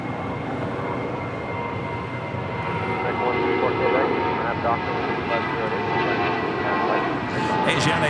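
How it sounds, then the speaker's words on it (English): An Asiana Airbus A380 landing at LAX on the north side, a steady broad roar of jet engines at a distance with a voice talking over it throughout. "Asiana A380 Super landing up there on the north side"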